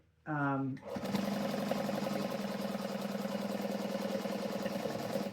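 A sewing machine tacks along the outside edge of a crossbody bag within the seam allowance, running steadily and close after a brief voice at the start.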